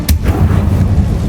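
A fiery Confringo spell blast in the Hogwarts Legacy video game, a sharp loud burst followed by a rumbling, booming explosion tail that stays dense to the end.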